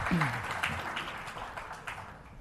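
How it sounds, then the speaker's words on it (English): An audience at a government meeting on the Musi River applauds to welcome a managing director, a dense wash of clapping that fades gradually, with a brief voice and a tonal sound at the start. "May I request a huge round of applause to you for the Managing Director of Musi, MRDCL."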